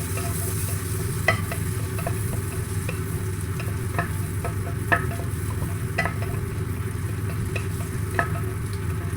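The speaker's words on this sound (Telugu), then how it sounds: "ఇప్పుడు ఈ మసాలా అదే కొద్దిగా జీడిపప్పు కూడా వేస్తున్నాను." Cashew nuts and masala fry in oil for butter chicken, giving a steady, close sizzle throughout. A spoon taps or scrapes the pan at irregular intervals.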